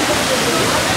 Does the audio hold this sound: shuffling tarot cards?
no